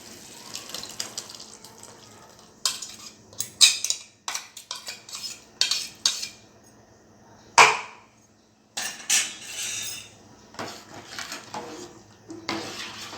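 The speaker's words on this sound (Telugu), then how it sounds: "దీనిని గెరటితో కలిపి" A ladle clinks and scrapes against a pot as sambar is stirred, close and irregular, with wet sloshing between the knocks and a brief louder clatter midway.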